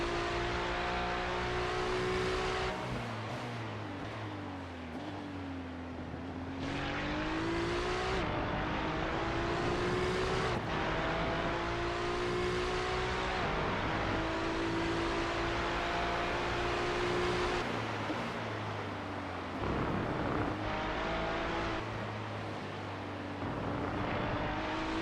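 Race cars in a sim racing game at Twin Ring Motegi, a steady loud engine drone that shifts pitch as the cars accelerate and brake through gears, continuous and close, with no clear speech over it.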